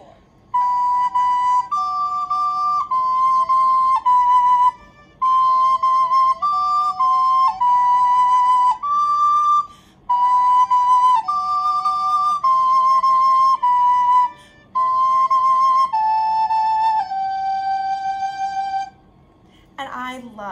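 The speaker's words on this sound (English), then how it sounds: "then I'm going to play the high part on the recorder." A recorder plays a high melody in clear, sustained phrases over a quieter low part from a phone, pausing briefly between phrases and closing together on a shared note.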